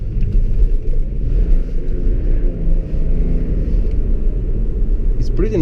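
A tuned 2005 BMW 535d E61 wagon with a 370 hp twin-turbo diesel drives through city traffic, producing a loud, continuous low engine rumble and drone close up, with a voice present over it.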